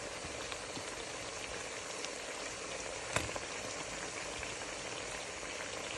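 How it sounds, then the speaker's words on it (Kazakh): Pieces of heart frying in a pan with carrots for Kazakh kuyrdak: a dense, even crackle and spatter throughout, with a single sharper pop midway. "Енді жүрегінде кішкене азырақ қуырып аламын."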